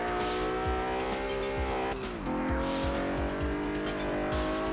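A Lamborghini Miura races in Test Drive Unlimited on PS2, its engine droning loudly and steadily, with repeated rhythmic tire chirps and one gear change partway through.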